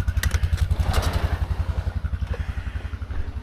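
A Grizzly ATV engine runs steadily on a backwoods ride, a close, low, rapid thumping pulse with faint clatter and no talk.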